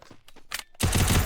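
Gunfire in the video game Devil Boss: a few scattered shots, then a loud, sustained automatic burst of rapid fire.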